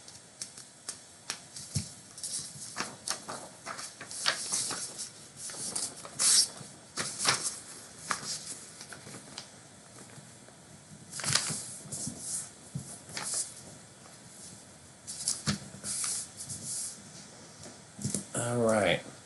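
Paper being folded and creased by hand, a series of short crisp rustles and snaps spread unevenly throughout, fairly close and quiet.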